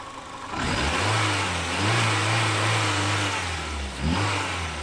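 A Renault Twingo 1, recently repaired for bucking in every gear with a new coil and sensor, cranks and catches, then revs up and down in a few swells before dipping and rising again near the end.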